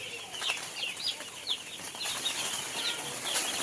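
Chicks in a poultry farm brooding shed cheep in high, rapid, overlapping peeps, many birds at once, steady and moderately faint against a soft background hiss.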